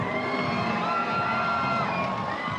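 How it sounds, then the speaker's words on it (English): Ringside crowd at a bare knuckle fight in Pattaya, Thailand, roaring and cheering in a steady, dense wall of voices with scattered whoops and shouts, loud and continuous throughout. "This Pattaya crowd seemingly evenly split in their support of Maseng and Tumba."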